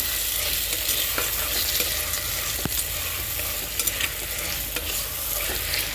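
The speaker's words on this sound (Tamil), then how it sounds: "தக்காளி பழத்தை சேர்த்து நல்லா கிண்டி விடுங்க" Tomatoes and onions frying in oil while being stirred, a loud constant sizzle broken by spoon scrapes and small pops.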